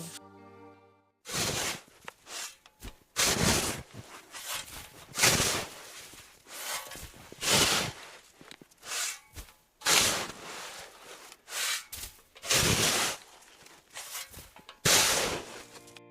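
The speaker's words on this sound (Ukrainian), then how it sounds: "це хтось іде по свіжому снігу" Crunching footsteps press into fresh snow one after another at a slow walking pace, close and fairly loud, with short pauses between steps.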